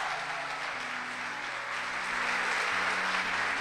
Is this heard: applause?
yes